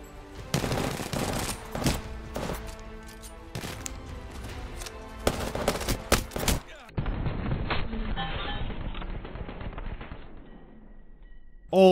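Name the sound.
hip-fire gunfire in the video game Apex Legends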